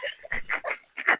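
A pet dog from a neighbouring house makes short yips and whimpering barks in a quick, uneven series, close and fairly loud, while someone plays with it.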